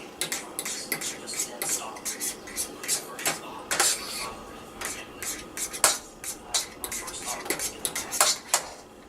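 A utensil stirs and scrapes hamburger in a nonstick skillet, with repeated light clinks and scrapes in an irregular rhythm, close and moderately quiet, with faint speech in the background.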